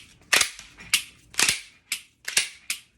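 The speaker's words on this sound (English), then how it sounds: "So let's do 10 dry fires." Dry-fire trigger clicks from a handgun, six sharp, close mechanical snaps spaced roughly half a second apart, each crisp and isolated against near silence.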